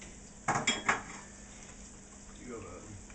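Dishes and plates being put away in a home kitchen, with three quick clattering knocks of crockery close by, then quieter handling noises fading out.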